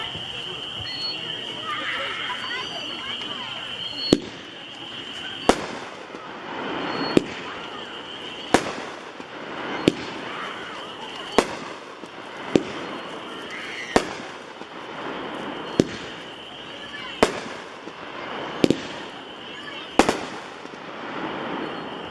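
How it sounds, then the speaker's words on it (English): A World Class Honey Badger 7-shot firework repeater fires sharp, loud reports at a steady pace of roughly one every second and a half over a continuous outdoor background hiss. "Number 44 on your list is Honey Badger. It's a 7 shot by World Class."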